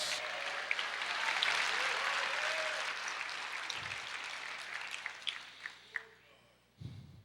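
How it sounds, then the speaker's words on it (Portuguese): Church congregation applauding during a sermon, a broad burst of clapping that swells early and gradually fades, with a few scattered claps and low voices toward the end. "Aplauda o Senhor, diga glória a Deus."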